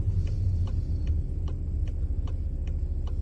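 Volkswagen Passat with a seven-speed DSG gearbox slowing down and downshifting, a low steady engine rumble with light rhythmic ticking, no talk.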